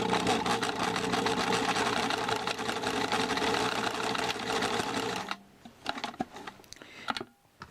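A sewing machine stitches back and forth on a bib in a fast, steady mechanical whir for about five seconds, then stops, followed by a few faint clicks and handling sounds.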